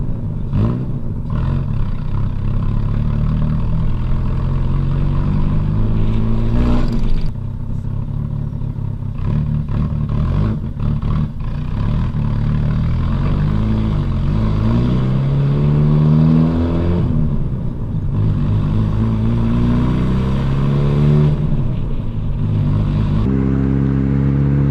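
A car is driven off a dirt road onto pavement, its mid-pitched engine droning loudly and steadily throughout, rising and falling with revs, with some clatter from the road surface and no talking.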